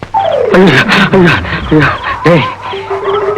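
At night, a dog gives a run of loud, close, wavering whines and howl-like yelps in quick succession, ending on one long held tone.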